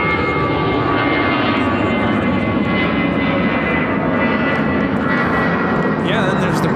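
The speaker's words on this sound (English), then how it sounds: "This is the Atlas Air Queen coming in from Anchorage." An Atlas Air jet airliner arriving from Anchorage at Chicago O'Hare, a loud, steady roar of jet engines filling the clip as it passes close by.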